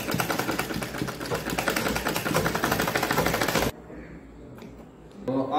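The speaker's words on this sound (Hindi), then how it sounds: "ऐसे मोड़ने के बाद अब इसको सिलाई करते हैं" Tailor's sewing machine stitching petticoat fabric: a loud, dense, rapid mechanical chatter runs steadily for several seconds, then cuts off, leaving a quieter room with faint handling noises.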